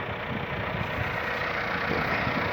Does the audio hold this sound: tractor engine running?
yes